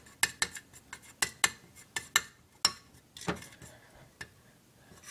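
Food coloring is mixed for homemade silly putty with a utensil that taps and clinks against a small container in a quick, uneven series of sharp close ticks that thin out toward the end, with no talking.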